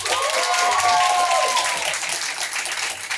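An audience applauds a nominated artist at a music awards gala, with a bright rising tone sweeping over the start and steady clapping carrying on loudly throughout.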